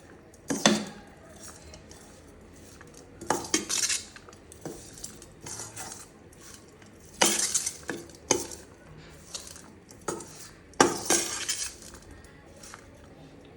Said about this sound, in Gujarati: હવે આપણે આમાં આ બધું જ મિક્સ કરી દઈશું